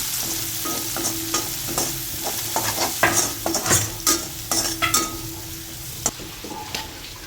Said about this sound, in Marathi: कांदा चांगला गुलाबी रंगाचा होईपर्यंत परतून घ्यायचा आहे.